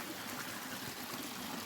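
Water trickling and babbling steadily along a stream in Tishomingo State Park, a continuous soft, close wash with no voices.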